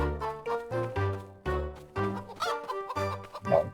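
Repeated rapid chicken clucks in a bouncy rhythm, close and clear, with a synthetic game-like quality, from a chicken in a Roblox game.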